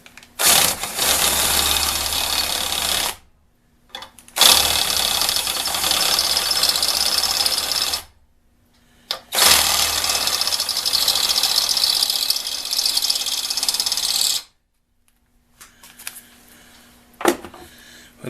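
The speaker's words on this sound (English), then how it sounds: "Countersink the hole to get rid of that sharp edge." A lathe countersinks a drilled hole in a die lock workpiece, giving long loud bursts of broadband cutting chatter with a steady low hum, broken by short pauses where the tool is backed off.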